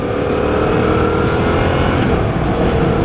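A manual-transmission car engine drones loudly and steadily from inside the cabin as the driver eases off the gas for an upshift, the tone holding fairly constant with a slight dip partway through.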